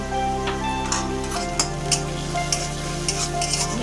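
Salt and turmeric frying with garlic and chopped green chili in a pan for a singara filling, a steady sizzle under a continuous low hum, with several light stirring clinks at irregular intervals.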